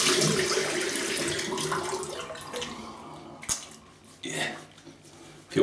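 Water runs from a tap for a quick rinse during shaving, a steady close rush that cuts off partway, followed by a few splashes and clatters.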